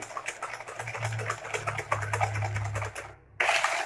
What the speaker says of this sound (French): Maintenant on va fouetter. On va bien fouetter le tout.